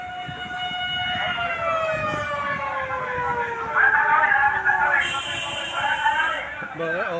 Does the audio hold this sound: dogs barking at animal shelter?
no